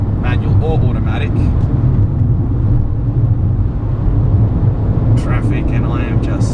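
A Fiat 500 1.2 Pop with a 1200 cc engine drives fast through traffic, its engine a loud, steady low rumble, with brief voices heard over it near the start and end.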